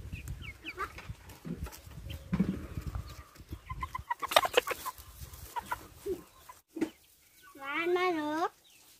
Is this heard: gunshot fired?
no